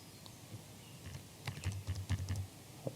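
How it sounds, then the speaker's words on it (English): Fingers typing a name on a computer keyboard, a quick run of soft key clicks close by that grows denser toward the end, alone over faint room hiss. "So you type in their name."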